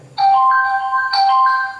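A loud, bright electronic ringtone from a Micromax X809 phone plays two repeating melodic phrases of clear tones, close and without any voices.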